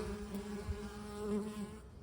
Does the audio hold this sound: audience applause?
no